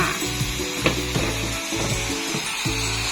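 A utensil scrapes a frying pan of minced pork in repeated rhythmic strokes, rough grinding sounds close by, with no voices.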